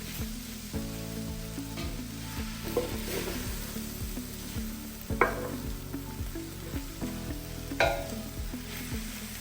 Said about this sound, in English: We're just going to cook this all together for another 5 minutes